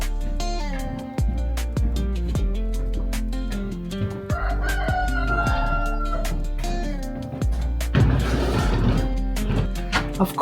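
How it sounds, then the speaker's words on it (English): A rooster crows repeatedly at an off-grid DIY house build site, loud and close, with clucking between the drawn-out calls and some clattering near the end. "Of course the rooster would be up here with me."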